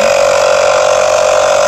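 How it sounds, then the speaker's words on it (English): Portable air compressor running steadily while reinflating a plugged flat tire, a loud constant motor hum with a strong fixed tone and no talking. "Now what you're hearing is my air compressor right there."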